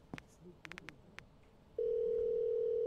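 Telephone in the video game Dale & Dawson, with a few short keypad tones and then a loud, steady dial tone held to the end of the clip.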